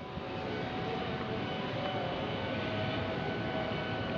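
A train rumbles past the railway crossing near JIS Stadium in Jakarta, a steady, broad, moderately distant roar that holds evenly throughout with no voices.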